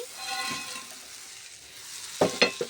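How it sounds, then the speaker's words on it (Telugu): Ingredients for a bread chaat sizzle and fry in a pan, a steady soft crackle throughout with a few sharper stirring scrapes and clinks near the end. "ఇవన్నీ ఇవి ఇలా ఫ్రై అవుతున్నాయి"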